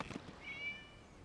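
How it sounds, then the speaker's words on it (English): A single cat meow in the video game Genshin Impact, high and drawn-out with a rising, tonal whine, fairly quiet against a faint background, with no talking. "It was just a cat."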